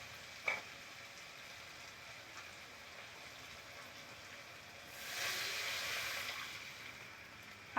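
Water poured into sizzling spice masala in a pan for fish curry: a quiet steady crackle, a brief clink, then a louder hissing surge that fades after a couple of seconds, close by and without talking.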